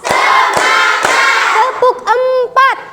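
A classroom of students does the 'tepuk siap belajar' clap routine: a few sharp, evenly spaced claps ring out, followed by a chorus of young voices chanting together in short bursts.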